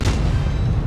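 A Grille 15 tank destroyer fires its 150 mm cannon in a video game, a single heavy, deep boom with a rumbling low tail lasting under a second.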